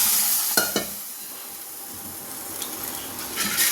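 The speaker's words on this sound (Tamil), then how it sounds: "ஆட் பண்ணிட்டு இதை நல்லா கிளறி விட்டுக்கணும்." Cooked chicken is stirred into sizzling onion masala for a spicy Kerala-style chicken gravy: two sharp spoon clanks near the start, then a steady close hiss of frying with faint scrapes, no voices.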